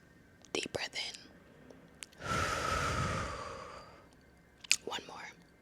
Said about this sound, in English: Deep breath in.